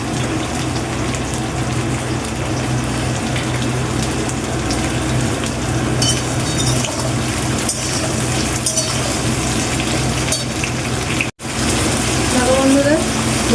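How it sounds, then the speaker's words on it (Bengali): Sliced ridge gourd fries lightly in oil in a home kitchen pan, giving a steady, close sizzle and crackle throughout, broken by a brief dropout near the end, with a voice talking over it at times. "খুব বেশি ভাজবো না, জাস্ট হালকা একটু ভাজবো"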